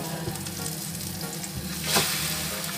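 A leek omelette sizzles steadily in a pan of hot oil for Indonesian dadar pre, with a brief scraping flip near the end and no talk.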